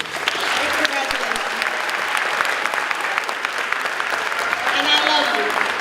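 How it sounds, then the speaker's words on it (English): Sustained applause from an eighth grade graduation audience, loud and steady across the whole stretch with scattered cheers, no speech over it. "Let's give Ms. Gore another round of applause."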